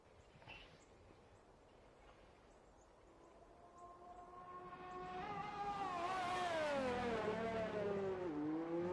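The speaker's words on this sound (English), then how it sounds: "Big downshift there heading into that corner. You can hear the high revs on that hybrid V6." A Formula 2 race car with a hybrid V6 on the circuit in China climbs through high revs, then drops sharply through a big downshift under engine braking, growing louder as it nears.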